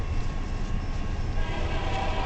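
A medium CN northbound intermodal mixed freight train with double-stack cars rolls past close by in Richmond, Michigan, making a loud, continuous rumble and rattle of wheels and cars.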